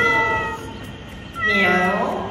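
A person imitates a cat's meow in several drawn-out, wavering cries, close and fairly loud, with no other talking.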